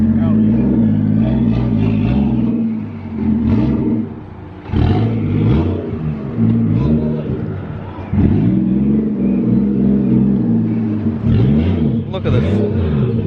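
A Toyota Mark II JZX100 engine rumbles and revs loudly through its exhaust, with rising and falling pitch sweeps, while a person talks over it.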